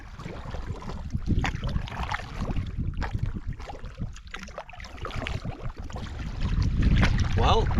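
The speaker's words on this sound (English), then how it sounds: "What a great day to be out paddling." Canoe paddled across Long Lake in the Adirondacks, with paddle swishes and water splashing under heavy wind buffeting the microphone, strong and close throughout.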